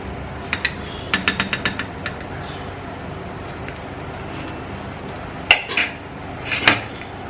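Metal spoon clinking against a bowl or pot while scooping blended potato puree, a quick run of sharp taps near the start, then a pause before a few louder clanks and scrapes, close and with no talking.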